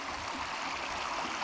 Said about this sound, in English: We're right next to the creek.